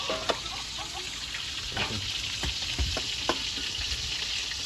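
Steady crackling sizzle of crab and fish frying in a pan, with occasional sharper pops and light clinks over a constant hiss.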